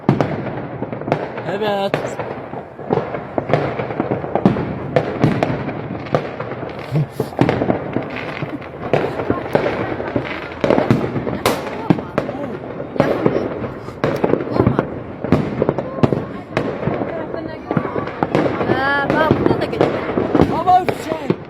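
Fireworks burst continuously in a dense crackling barrage of pops and bangs at moderate distance, while someone talks over the noise throughout.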